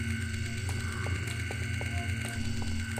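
An idle security camera in System Shock 2 gives off a continuous mechanical hum with a regular ratcheting, gear-like clicking and faint creaks, steady and fairly close, with no talk.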